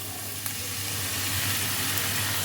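Sour yogurt goes into a frying spice paste for navratan korma, and a soft, continuous sizzle and hiss follows with a faint low hum beneath and one small clink early on.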